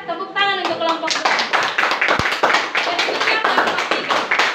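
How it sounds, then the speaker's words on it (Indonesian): A school class claps for a presenting group, a dense patter of hands in a classroom, with a voice speaking over the start of the clapping. "Tepuk tangan untuk kelompok 2."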